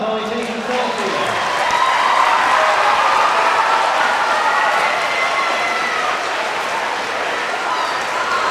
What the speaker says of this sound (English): Stand up and give him a round of applause while he takes a selfie